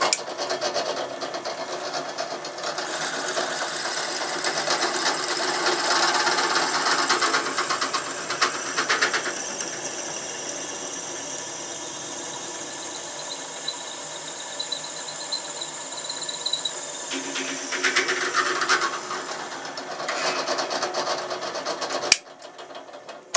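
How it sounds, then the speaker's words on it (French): A drill runs through a homemade long bit in steady continuous grinding, with the pitch shifting partway through. The sound is close and fairly loud, and it cuts off near the end. "je vais percer, je vais commencer avec la mèche et on verra la suite."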